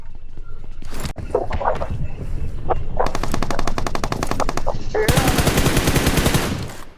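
Bursts of automatic gunfire from a weapon in a video game, rapid rattling volleys that start around the middle and build to a dense, loud stretch near the end, with some lighter game noises before.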